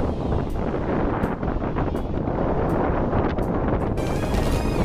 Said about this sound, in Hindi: यहाँ का मौसम बहुत ही सुहावना था और काफ़ी तेज़ हवा चल रही थी।